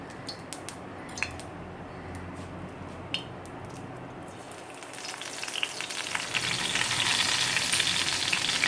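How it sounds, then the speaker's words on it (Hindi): Curry leaves hitting hot mustard oil in a kadhai, a few sharp pops and clinks giving way to a steady, building sizzle that grows louder and denser toward the end, close by. "अभी थोड़ा सा गर्म हो जाए तो फिर मैं इसके अंदर कड़ी पत्ते काट के डाल दूँगी"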